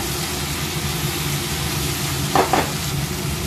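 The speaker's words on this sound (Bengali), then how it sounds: "একটু ভাজা ভাজা করে নিচ্ছি এটা।" Paneer and mixed vegetables frying in a pan, a steady close sizzle with a brief pair of scraping stirs near the end, alone without talk.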